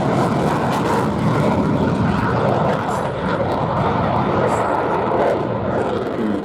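A Mirage 2000 fighter jet at the Nancy-Ochey airshow produces a loud, continuous, broad engine roar that holds steady throughout, with faint crowd murmur underneath.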